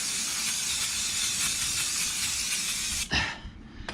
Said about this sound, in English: I'll give the whole area a quick spray down with brake cleaner